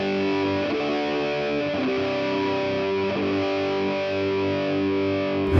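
Sustained distorted electric guitar chords through a JHS The Violet distortion pedal, with a pushed, honky midrange, ringing steadily and loudly with a few chord changes, no speech.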